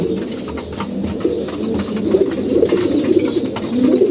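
Pigeons coo in low, throaty rolls, repeating steadily and close up, with a few high chirps from smaller birds over the top.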